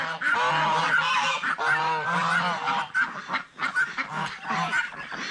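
Ducks quack in loud, close honking calls, repeating in a rapid rhythmic chorus, several birds calling together without pause.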